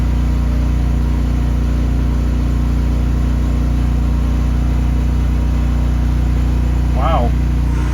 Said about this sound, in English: Generator's idling up.